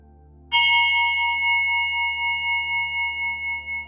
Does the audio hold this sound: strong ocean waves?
no